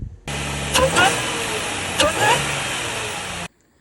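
An Audi A6 (C7) fitted with a cold air intake idles with a steady drone, then jumps into two quick revs about a second apart before cutting off abruptly.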